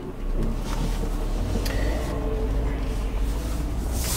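Steady low engine rumble and road noise from inside a moving Mercedes-Benz GL450 SUV, continuous and fairly loud throughout.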